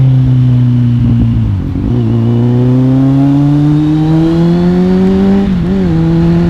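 A Kawasaki Z800 motorcycle rides on a wet, glossy road, its engine loud and close, revving with rising pitch, briefly easing off, then climbing again.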